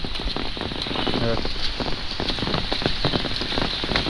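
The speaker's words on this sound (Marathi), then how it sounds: "पाऊस भरपूरच लागतोय हो" Heavy monsoon rain pours steadily during rice planting in rural Konkan, a dense continuous hiss of drops drumming on surfaces and an umbrella, loud and unbroken for the whole stretch.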